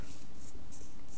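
A big pen nib loaded with ink scratches across paper in short, close strokes during a cartoon sketch, a soft dry rasp that keeps going with no voices.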